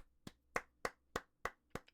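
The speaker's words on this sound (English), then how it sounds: "Round of applause for Javier" A small group claps in a brief round of applause, six sharp distinct hand-claps spaced evenly about a third of a second apart, close and fairly clear with no talk over it.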